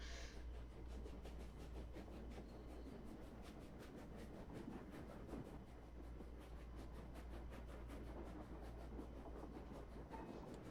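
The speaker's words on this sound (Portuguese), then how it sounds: "Eu tô escutando os trens" A steady, faint train rumble in the strategy video game Kaiserreich, with a rhythmic clickety-clack of wheels on rails, continuous and unbroken for the whole stretch, with no voices.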